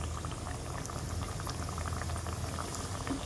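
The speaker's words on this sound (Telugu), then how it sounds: "ఆయిల్ అయితే హీట్ అయింది కదా, మనం ప్రిపేర్ చేసుకొని పెట్టుకున్న మడత కాజాలను కూడా దీంట్లో వేసేసుకుందాము ఒక్కొక్కటిగా" Madatha kaja pastries fry in hot oil with a constant, dense bubbling sizzle, close and even in level throughout with no voices.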